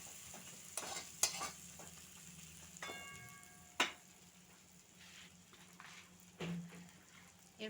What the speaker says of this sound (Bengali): এবার মশলাটা ভালোভাবে কষে নিচ্ছি।